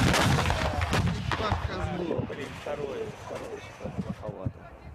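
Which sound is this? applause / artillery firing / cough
artillery firing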